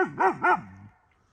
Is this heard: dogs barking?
yes